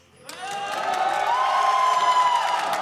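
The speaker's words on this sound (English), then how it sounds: "I think some people cheered twice." Crowd at an esports arena for a League of Legends finals match, cheering and whooping in a broad, sustained roar that swells quickly and holds loud throughout.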